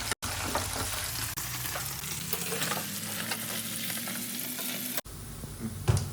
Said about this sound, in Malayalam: അപ്പോൾ ഒരു അഞ്ച് മിനിറ്റ് ആയിട്ടുണ്ട് ഇതൊന്ന് ഇളക്കി ഒന്ന് തിരിച്ചിടാം